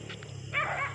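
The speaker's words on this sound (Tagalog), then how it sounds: "Kaya tinatahol kami ng aso." A dog barks nearby at night during a spider hunt on Camotes Island, a couple of short muffled barks followed by a louder, rougher bark or growl over steady low hum.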